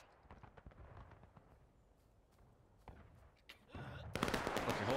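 Musket volley fire in the Civil War game War of Rights, scattered distant shots popping at first, then building into a louder, denser burst of massed fire toward the end.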